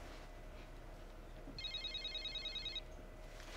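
A mobile phone ringing with one short electronic trilling burst lasting about a second, fairly quiet against steady background noise in an indoor scene.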